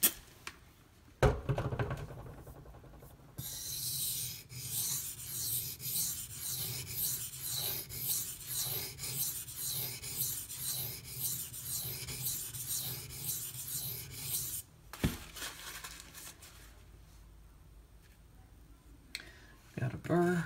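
Knife sharpened on a Gritomatic silicon carbide stone, steady rhythmic rasping strokes of the blade on the grit, close and continuous for over ten seconds, with brief handling noises before and after.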